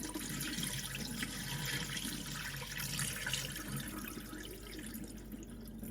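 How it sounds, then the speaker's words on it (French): Rinse water poured off soaked rice in a kitchen, a steady close splashing and trickling stream that runs continuously, with no talk. "On va enlever l'eau."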